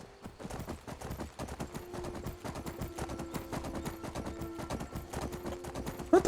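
A horse's hooves clip-clop in Skyrim on the road south, a steady rapid rhythm of close hoofbeats running throughout with a sustained tone beneath and no speech.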